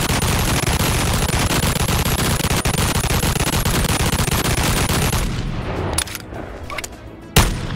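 Rapid, continuous gunfire from the Admin Deagle variant, a color-shifting pistol mod in the video game Bonelab, loud and dense for about five seconds before stopping abruptly, leaving a few scattered clicks and one sharp final shot.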